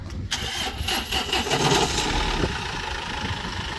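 A 2010 Sprinter-type passenger van with a 2.1-litre engine, in winter, fires up near the mic and settles into a steady, loud diesel idle that rumbles throughout.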